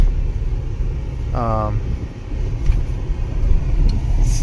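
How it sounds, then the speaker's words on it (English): Low, steady rumble of a 2006 Dodge Dakota 4.7-litre 4x4 pickup engine and cooling fan roaring while driving and accelerating, with a brief voice-like tonal sound cutting in near the start. "when I go to accelerate, you actually hear the fan roar now all the time"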